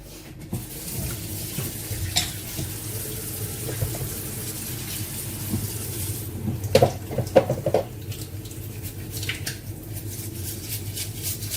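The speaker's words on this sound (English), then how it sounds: "I'm going to wash my hands" A kitchen tap runs steadily while hands are washed under it. Splashing and rubbing noises rise in the middle, with some soft clatter, and no one speaks.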